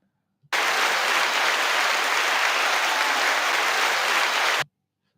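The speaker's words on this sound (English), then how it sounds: "Now I'm clapping for you, Pam." Recorded applause played back through a speaker, a dense even burst of crowd clapping that starts abruptly, holds steady and loud for about four seconds, then cuts off just as suddenly.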